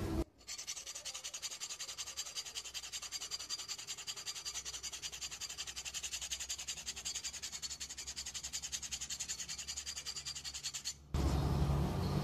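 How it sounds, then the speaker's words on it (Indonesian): A sandpaper sheet rubs along the sharp cut edge of a glass pane in a continuous, close, even scraping hiss, pausing briefly once near the end before resuming. "Saya menggunakan amplas, tidak menggunakan batu asah karena hasilnya bisa lebih baik."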